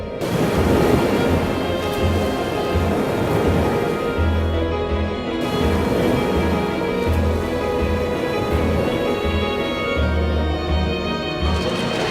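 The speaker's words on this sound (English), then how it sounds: "With winds gusting to 50 knots and 40-foot swells, the Drake lives up to her reputation." Stormy sea in the Drake Passage with winds gusting to 50 knots and 40-foot swells, heard as a dense, continuous roar of wind and crashing water with low rumbling surges and no voices.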